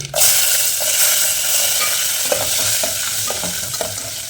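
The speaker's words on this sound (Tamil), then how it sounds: "ரொம்ப கருகு கூடாது. வெங்காயம் போட்டுக்கலாம்." Onions frying in hot oil with mustard seeds for a fish curry, a steady loud sizzle with scattered pops and the scrape of a spoon stirring the pan, no talking.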